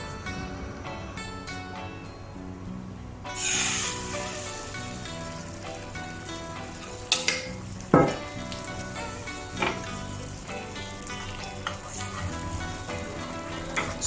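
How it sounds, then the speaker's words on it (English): Egg cooking in hot oil or butter in a pan, with a steady crackling sizzle throughout, a louder burst of frying early on and a few sharp scrapes or stirs later, with nobody speaking. "Heat some oil or butter in the pan."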